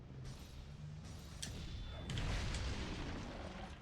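A bomb explosion hits a monster in the video game Monster Hunter Tri, giving a loud, booming blast that swells over a continuous rumbling game soundscape with a few sharp impacts.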